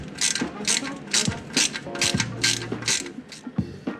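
A ratchet loosens the oil pickup tube on an LSx engine, giving a run of rhythmic close clicking bursts about twice a second, loud and with no talk.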